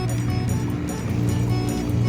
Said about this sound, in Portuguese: essa zoada que vocês estão escutando, ó, o barulho dos carros, é a BR que passa aqui ao lado